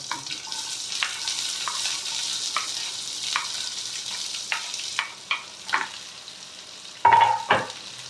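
Finely chopped large onion and green chilli fry in a pan with a soft, continuous sizzle, broken by repeated spatula scrapes and stirs, growing sharper toward the end; close and without speech.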